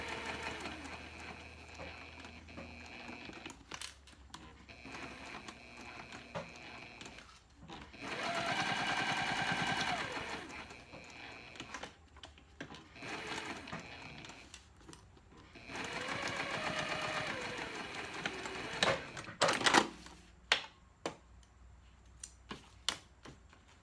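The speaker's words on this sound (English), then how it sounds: "So with my zipper facing the top of my sewing machine bed, I'm gonna start sewing on this right side." Sewing machine running in two sustained bursts to stitch a 1/8 inch seam along the zipper side of a small fabric pouch, steady close mechanical whirr with short clicks and handling noises between runs.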